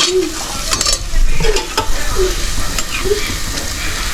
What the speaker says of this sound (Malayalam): ഇതൊന്ന് ഒന്ന് നല്ലോണം ഇളക്കാം കേട്ടോ